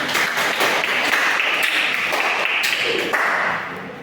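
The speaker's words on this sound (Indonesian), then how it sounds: "Kita beri tepuk tangan kepada adik-adik." A classroom group of students applauds during a semester exam project session, with loud, continuous clapping that stays dense before tapering off near the end.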